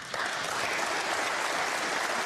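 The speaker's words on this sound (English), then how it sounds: "Applause for frame ball." Steady audience applause fills a snooker arena after a frame ball in the English Open 2017 final, a dense, continuous clapping that holds at an even level from start to finish.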